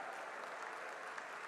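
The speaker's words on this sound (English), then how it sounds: "Big round of applause." An audience at the RIDE 2022 Annual Innovation Conclave valedictory session applauds, a steady wash of many hands clapping, even and sustained, heard from a distance without talk.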